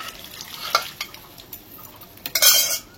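Pigeon pea dal being stirred in a pan for a Bengali festive meal, giving soft scraping and a few sharp utensil knocks against the pan, with a louder clattering burst near the end; no talking.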